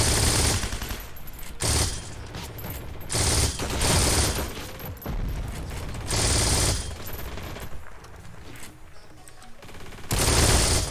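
An MG42 machine gun fires in long, loud bursts in the video game Heroes and Generals, its rapid rattle broken by short pauses between volleys.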